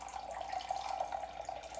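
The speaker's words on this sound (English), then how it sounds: "And I'm gonna pour in the 2/3 of a cup of water at this point." Chilled ice water is poured from a measuring cup into puff pastry dough, giving a short steady trickling stream, soft and close, with no voices.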